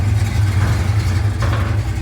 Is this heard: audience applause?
no